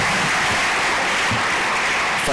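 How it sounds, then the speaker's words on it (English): Sustained applause from an audience at a national science and technology exhibition, steady clapping throughout without speech. "Another round of applause."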